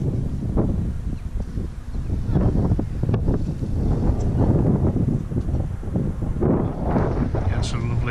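Strong cold wind buffets the microphone in the Peak District near Birchover, a constant loud rumbling gust noise with surges, and a person's voice is partly heard under it.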